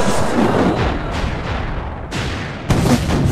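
Cannon fire from a ship battle in an animated show: heavy booming blasts, one at the start and two more close together near the end, each with a rumbling tail.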